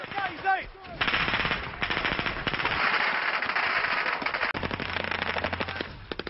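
Sustained bursts of rapid automatic machine gun fire during a night attack with flares in the Falklands War, loud and continuous, with sharp cracking reports and a brief pause before firing resumes.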